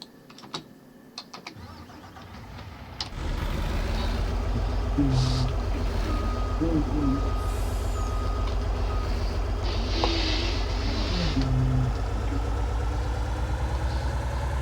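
A farm truck in a farming video game cranks over and settles into a steady, loud diesel idle, while a repeating reversing beep sounds over the engine hum.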